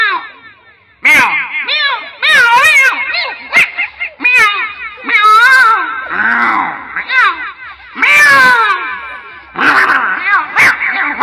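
Human voices mimic cats fighting, trading loud yowls, wails and snarling cries in close bursts with short pauses between them.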